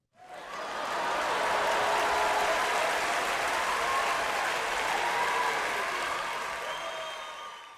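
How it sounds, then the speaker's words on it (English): Sustained applause from a crowd at a student leadership gala, swelling quickly and holding steady for several seconds before tapering off, with no speech. "Please give them a round of applause."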